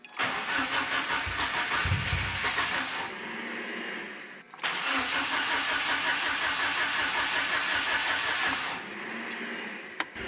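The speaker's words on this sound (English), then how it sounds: "We're going to try to build some fuel pressure. Not fuel pressure, oil pressure." A 2012 Subaru WRX with a Cobb 20g turbo cranks over without firing to build oil pressure, a loud, steady starter whir in two long bursts separated by a brief pause.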